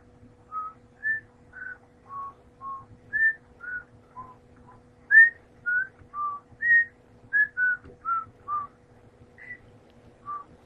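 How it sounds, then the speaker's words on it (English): A person whistles a series of short, separate notes at varied pitches in an irregular rhythm, moderately loud and close, while Happy Wheels gameplay runs underneath with a faint steady hum and low rumble. "Kind of sucked at whistling there"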